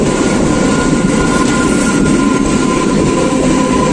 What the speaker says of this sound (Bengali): এখন আমাদের লোকাল আসছে মেদিনীপুর থেকে হাওড়া যাওয়ার লোকাল।